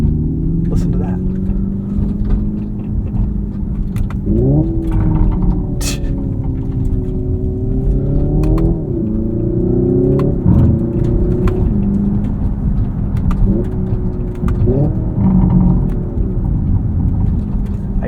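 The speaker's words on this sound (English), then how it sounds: "it just sometimes makes funny engine noises." Hyundai Ioniq 5 N electric car producing synthetic engine noise as it accelerates, with rising and falling tones like gear shifts at steady loudness, close and continuous, under light road noise.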